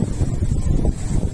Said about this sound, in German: Ja, natürlich auch Wind.